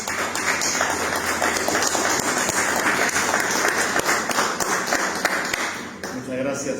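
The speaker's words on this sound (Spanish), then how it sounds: "le damos muy fuertes aplausos a Amado Muñoz Cristian" Strong audience applause at the launch of a novel, dense continuous clapping that holds for several seconds before thinning, as a voice begins speaking near the end.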